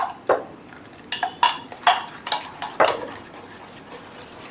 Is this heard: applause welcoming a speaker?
no